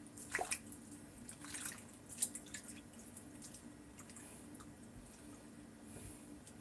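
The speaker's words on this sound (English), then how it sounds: "stab at the butter, to kind of cleave it and expose the inner parts of the butter and rinse out the buttermilk" Homemade butter being rinsed in water to wash out buttermilk: a few wet drips and squishy splashes early on, then a quiet, faint watery trickle, close and without speech.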